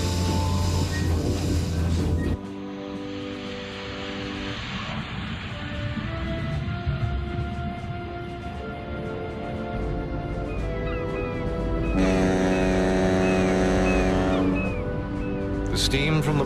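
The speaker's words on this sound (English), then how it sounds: "The steam from the boilers drove the main engines at a pressure of over 200 pounds per square inch." The Titanic's steam-driven main engines start up with a heavy, continuous mechanical rumble and hiss that swells over several seconds, while voices talk and gull-like cries sound in the background.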